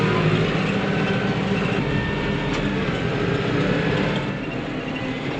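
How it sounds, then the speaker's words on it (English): Farm tractor driving away on baling day, a heavy low engine rumble and broad mechanical roar that holds steady before easing slightly toward the end. "There goes my tractor."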